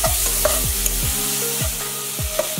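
Garlic and ginger paste fries in a pan for a moong dal tadka while a spoon stirs it, giving close, loud rhythmic scraping strokes over a steady sizzle, with no voices.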